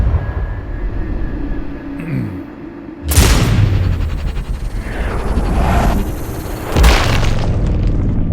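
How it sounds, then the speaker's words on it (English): Suppressed rifle shots in the video game Sniper Ghost Warrior Contracts 2, two sharp loud booming cracks a few seconds apart, each trailing into a rumbling echo. "We have a quiet rifle."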